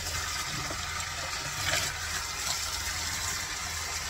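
Tap water runs in a steady, close, continuous gush while a 130% density human-hair topper is washed, with no voices over it.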